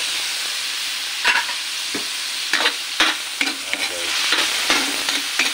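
Chicken and garlic sizzling in a hot pan while being stirred, with sharp scrapes and clatters of the spatula over a steady frying hiss, close and fairly loud; a voice says one brief word.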